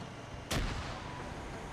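A single loud, booming gunshot blast in a video game shooter match, striking abruptly and then fading into a low rumbling tail.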